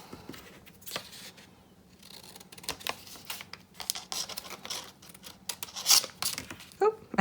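Scissors trim the edges off folded black paper for an origami witch hat, a series of quiet, close snips and crisp paper rustles in an uneven rhythm.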